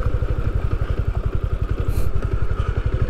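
A motorcycle being parked at a picnic spot near Alipurduar, its engine idling close by in a steady, rapid low putter that keeps going throughout with no talking.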